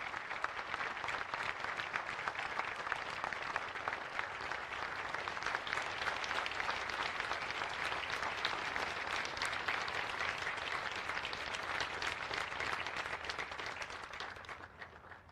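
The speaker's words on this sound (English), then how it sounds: "a huge round of applause for Riptide Ripple" Sustained audience applause fills a Pearl Harbor memorial ceremony, dense steady clapping from a large crowd lasting many seconds before tapering off at the end.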